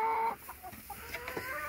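Meat chickens squawk and cluck in agitated bursts close by, a few sharp calls scattered over soft background noise, with no talking.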